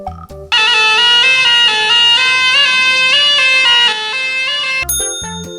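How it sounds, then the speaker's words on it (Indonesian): Serune Kale, a traditional Acehnese trumpet-like wind instrument, plays a loud, reedy sustained melody with steady shifting notes, set off by short plucked tones at the start and end. "alat musik tiup tradisional khas Aceh yang berbentuk seperti trompet"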